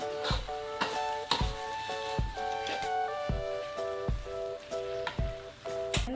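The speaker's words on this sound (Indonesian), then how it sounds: "Ke dalam daun pucuk ubi yang sudah kita goreng dengan cabai." Cassava leaves frying with chili and salted fish in a pan, a steady sizzle broken by repeated sharp clinks of a utensil striking the pan.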